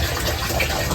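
Water drains from a Panasonic automatic washing machine with a U11 error, its drain line sloped rather than elevated, giving a steady, close rushing and gushing flow for under a second.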